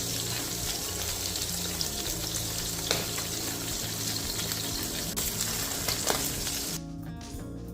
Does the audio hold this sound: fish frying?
yes